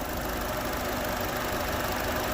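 A 2019 Buick Encore with a 1.4-liter turbocharged engine idling, a steady, even hum with a faint ticking texture, heard up close with no talk.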